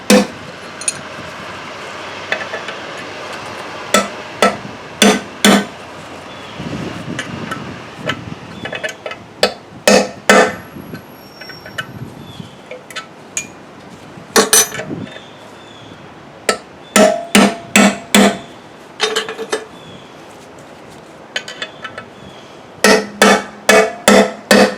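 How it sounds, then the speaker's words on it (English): Chisels are hammered as wedges into the collet grooves of a Borg Warner Quadratrac transfer case during a rebuild. Sharp metallic hammer strikes come in irregular bursts and quick runs, close and loud, with quiet gaps between them. "I'm going to drive some wedges, so just chisels basically, down into these collet grooves"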